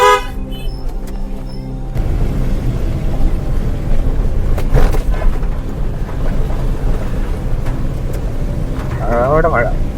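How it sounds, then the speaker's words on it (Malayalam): Heavy rain in Matheran hisses steadily with a low rumbling undertone, while a vehicle horn sounds at the start and voices talk over the downpour. "അവിടെ മഴ."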